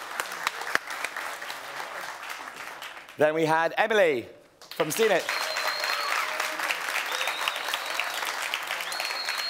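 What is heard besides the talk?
audience clapping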